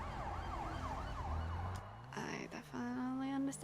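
Wailing emergency siren in the GTA 5 video game, rising and falling tones that shift into a steadier, higher wail, heard under a low rumble with a voice briefly present.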